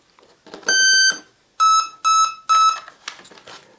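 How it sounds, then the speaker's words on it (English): A Horizon Hobby Apprentice STS RC plane beeps after its LiPo battery is plugged in, with one long electronic tone followed by three short beeps in quick succession, then a few faint chirps, loud and close. "Makes a couple series of beeps even with the switch off."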